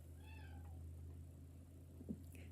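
A cat meows several times in quick succession early on, faint and at a distance over a steady low hum, followed by a brief hiss-like burst near the end.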